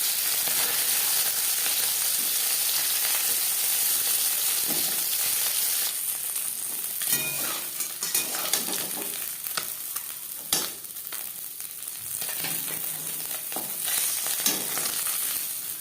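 Parshe fish fry in a pan, a steady close sizzle and crackle that shifts as the pieces are stirred or turned, with no talk.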